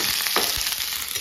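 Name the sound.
onions frying in a pan for pork curry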